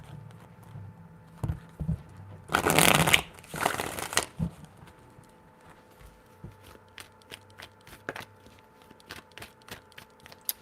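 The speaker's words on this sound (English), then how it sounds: "Three shuffles." A deck of tarot cards is shuffled up close, with a dense riffling burst followed by a shorter second one, then scattered light taps and clicks as the cards are handled.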